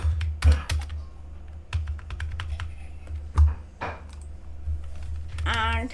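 Code is typed on a computer keyboard in irregular bursts of crisp, close key clacks, with a few heavier thumps from a spacebar or enter key.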